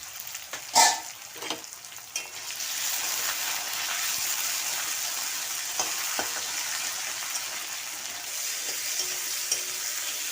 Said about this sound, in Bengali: আর জিরে ফোড়ন দিয়ে আলু টমেটো ভেজে নিলাম